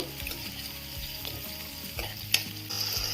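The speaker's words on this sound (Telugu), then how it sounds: "చట్నీలో తాలింపు కోసం కూడా తాలింపు కూడా ప్రిపేర్ చేసేసుకుంటున్నాను" Tempering for chutney frying in hot oil sizzles steadily up close, with repeated stirring clinks and scrapes and one sharp tap near the end, quiet and without speech.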